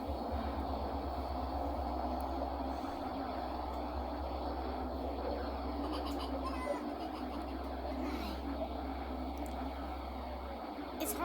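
A steady, dense rumbling drone with a low pulsing throb runs unbroken and fairly loud, offered as a recording of the sound of Earth.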